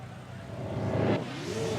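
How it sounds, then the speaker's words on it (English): Honda race motorcycle engine revs on the start line of the TT Isle of Man road circuit in a racing video game, a steady mid-pitched drone that swells briefly and then settles. "So we are revving up at the start."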